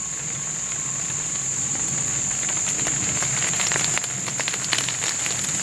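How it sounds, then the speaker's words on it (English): Morning rain falls outdoors beside a creek during a coyote hunt, a steady dense hiss of drops, with a constant high insect-like whine running through it and no voices. "it's raining on us already this morning"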